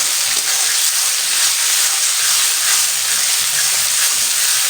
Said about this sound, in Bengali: এবারে কিন্তু এর মধ্যে আমি দিয়ে দিচ্ছি কেটে রাখা টমেটোগুলো, গোটা রসুনটা ছিল ওটাও দিয়ে দিচ্ছি